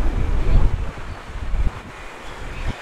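Strong cold wind blows past a truck on a snowy, closed mountain road, a steady rushing buffet against the microphone, louder at first and then easing.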